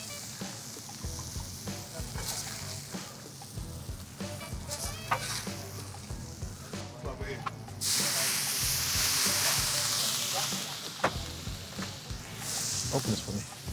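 Mushrooms and stir fry sizzle on a Gather griddle grill, a steady frying hiss with scraping and stirring clatter, swelling to a louder, brighter sizzle partway through as food is moved across the hot surface.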